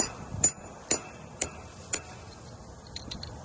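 Four sharp metallic taps of a hammer striking a steel punch set against chimney brick, evenly spaced about half a second apart, followed by a few lighter quick ticks, close by over a quiet background.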